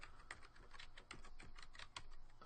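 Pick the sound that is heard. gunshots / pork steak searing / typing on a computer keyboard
typing on a computer keyboard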